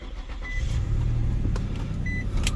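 Inside an Infiniti G35 with a VQ35 engine running poorly, a steady low rumble and drone heard from the cabin, with a couple of faint short electronic beeps over it.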